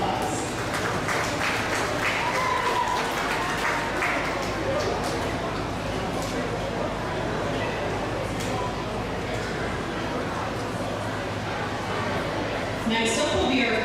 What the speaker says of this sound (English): Let's give those kids a round of applause.